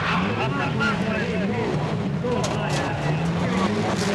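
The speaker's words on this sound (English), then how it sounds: "Difference in engine note there between the 205 and the Delta, quite apparent." A Lancia Delta turbo rally car engine, about 260 brake horsepower, revs loudly and roars steadily through gear changes. Its pitch rises and falls as it races at the Race of Champions, with a commentator talking over it.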